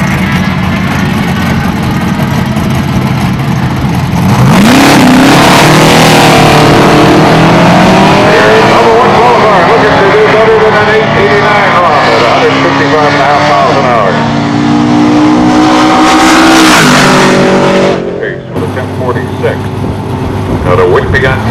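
A 1989 Mustang race car launches and accelerates hard down a drag strip, its loud engine roar climbing through gears for about thirteen seconds before cutting off, with an announcer talking over it.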